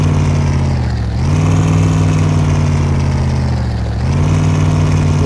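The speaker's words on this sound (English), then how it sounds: "That Chevy is awfully loud when it idles." A Chevy truck engine idles in the game SpinTires with a loud, steady, deep rumble. The pitch dips briefly twice and then settles back.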